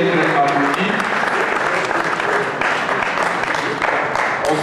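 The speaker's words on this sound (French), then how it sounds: "Les amis de Orafi qui sont là, ils peuvent être applaudis." Loud, sustained applause from an audience at a sports talent awards ceremony, dense and continuous with faint crowd murmur mixed in.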